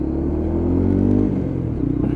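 A Lexmoto LXR motorcycle engine drops back through the gears into first, a close, loud rumble that dips in pitch and settles into a throbbing idle-like beat.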